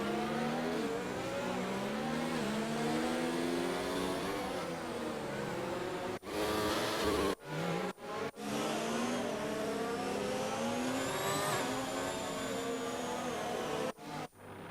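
Several racing car engines drone and rev steadily in a sim racing game during a formation lap at the Brazil round, with harmonic whines rising and falling, brief dropouts, and light tyre squeal among the continuous engine noise.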